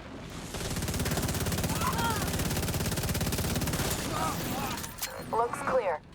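A minigun fires in a video game, a loud continuous rapid buzzing stream of rounds lasting about four seconds, then dying off into brief bursts and clatter as a voice comes in near the end.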